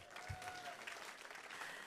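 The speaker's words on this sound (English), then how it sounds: "Let's give him a round of applause." An audience at a multicultural music and dance festival bursts into brief applause, a short wash of clapping with a faint voice underneath.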